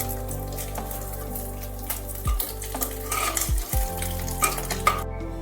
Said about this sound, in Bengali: মাছগুলো ভাজার পর তুলে নিচ্ছি। একটু কড়া করে ভাজতে হবে।